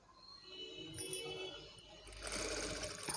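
Sewing machine running a stitch through child's blouse fabric, a quiet mechanical whir with faint clinks, getting louder and busier toward the end.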